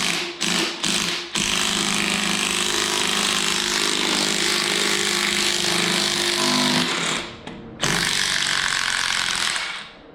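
An impact wrench working on the harmonic balancer of an LS1 engine in a 1967 Camaro, a loud, close, sustained hammering rattle that runs almost unbroken, opening with a few short bursts and dipping briefly near the end before resuming.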